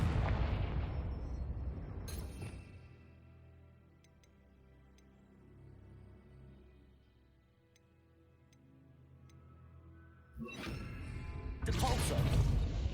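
A Confringo blasting spell goes off in the video game Hogwarts Legacy, with a loud broadband blast near the start, a quieter stretch of soft ticking, then a second heavy burst that rumbles on near the end.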